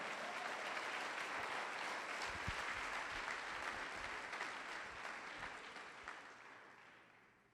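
A church congregation gives a strong round of applause, a dense, loud wash of many hands clapping that holds steady before slowly fading away near the end.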